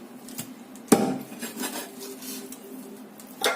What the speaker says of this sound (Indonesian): Ini yang buat sop saya potong kecil-kecil seperti ini.